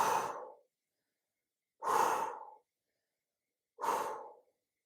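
Deep, slow breaths during a guided chakra-clearing meditation: three long, even exhalations, close and soft, separated by short silent pauses.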